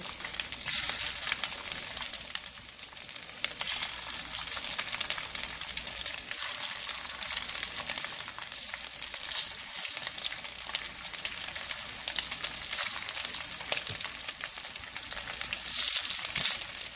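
Beef pieces frying in a hot pan for beef and broccoli, a steady dense sizzle holding at even loudness from start to finish, close and alone with no talk.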